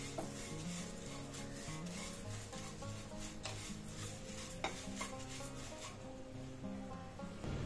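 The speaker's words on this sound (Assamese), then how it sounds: "এয়া মই চিৰাখিনি ভালৰে ভাজি ললো ধুনীয়াকৈ মচমচীয়া হৈ গৈছে" Flattened rice (chira) is dry-roasted in an iron wok, a soft continuous scraping and stirring rasp with light rustling of the crisp flakes, faint and close, with no talking.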